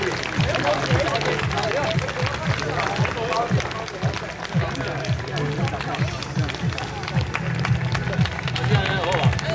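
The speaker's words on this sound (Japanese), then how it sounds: "さあどうぞ今一度大きな拍手お願いします" A crowd applauds after a Taiwanese dragon dance by a Taoyuan troupe at an outdoor temple-gate plaza during a Narita traditional performing arts festival. The clapping is dense and sustained, with steady low rhythmic thuds running beneath it.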